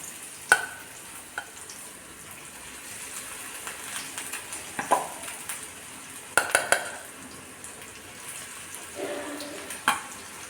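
Sweet corn vada sizzling in hot oil, a soft continuous frying hiss broken by several sharp clinks and scrapes of a spoon or slotted ladle against the pan.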